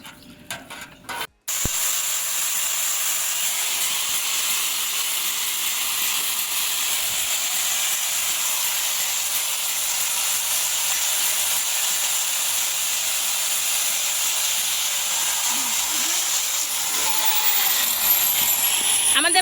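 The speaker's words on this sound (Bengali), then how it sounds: "বাসায় শিল শিলপাটার ধার কাটা হচ্ছে" A stone grinding slab (shil-pata) being chiseled at home to roughen its surface gives a steady, dense, hissing scrape that runs continuously after a brief pause at the start, close and fairly loud, with no talk.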